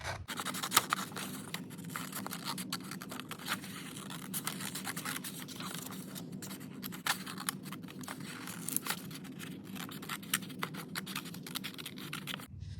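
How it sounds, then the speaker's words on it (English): Scissors snip through a printed paper stamp print with repeated close, crisp cuts and light paper rustling, steady and quiet without talk. "Next, you're going to cut out your print."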